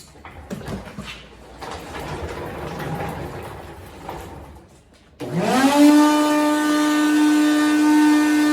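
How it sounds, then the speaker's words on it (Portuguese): Workshop vacuum cleaner clearing chips after a CNC router cut a T-slot in a panel: rustling cleanup noise first, then the motor snaps on with a loud, steady high whine that holds to the end. "Vou só passar um aspirador ali para a gente ver já como que..."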